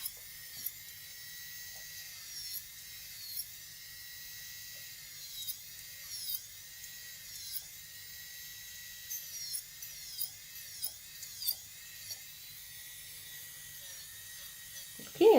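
An electric nail drill whines at high pitch while removing gel nail extensions, holding a steady tone with small dips and surges as it works, with some faint voice beneath.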